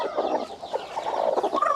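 A hen clucks softly among newly hatched chicks in a nest on a rice-field farm. Short, close clucks repeat irregularly, mixed with thin chirps.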